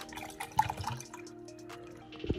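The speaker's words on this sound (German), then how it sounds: "Und jetzt kippen wir halt das kalte Wasser hier einfach rein." Cold water poured into a container indoors, with a brief, fairly quiet run of trickling, dripping liquid and a small splash near the end.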